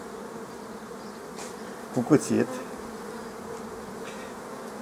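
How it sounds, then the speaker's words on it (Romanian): Honeybees drone steadily around a hive while a beekeeper splits a swarm, a constant buzzing bed with a brief spoken phrase over it partway through. "Și ele albine se plimbă de colo-colo."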